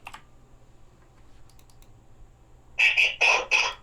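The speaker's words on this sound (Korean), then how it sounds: "컨트롤 C 눌러서 여기다 붙여놔 볼게요" Computer keyboard keys pressed for a Ctrl+C copy command, heard as three or four close, crisp clicks in a quick cluster near the end after a quiet stretch.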